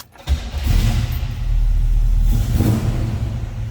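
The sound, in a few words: 1967 Chevrolet Camaro engine starting and running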